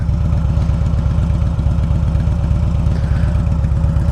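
A 2007 Harley-Davidson Road King Classic with Vance and Hines slip-on mufflers idles close by, its loping, uneven low thump pulsing steadily throughout with no talking.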